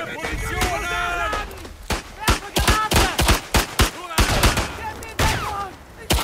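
Gunfire from a new pistol in the video game Isonzo, played as the Officer class: a rapid series of sharp, loud shots in irregular bursts over battlefield noise, with a voice speaking at the start.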